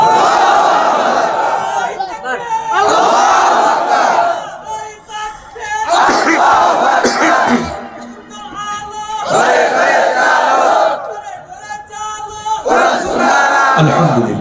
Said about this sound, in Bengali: জোরে করে একটা তাকবীর